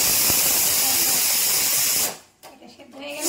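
Loud steady hiss of steam escaping from a pressure cooker whistle, continuing for about two seconds before cutting off abruptly, followed by quieter rustling.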